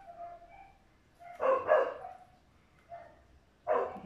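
Puppies barking in a few short, high yips, with brief pauses between bursts, fairly close and without any talking.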